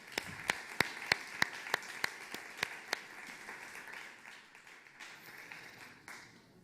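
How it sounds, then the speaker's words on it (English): A round of applause for the speakers at the Sandbox Stage of South Summit 2021, opening with a few loud, distinct claps that thicken into a steady wash of audience clapping and then fade away. "Help me and give it up for them for a round of applause"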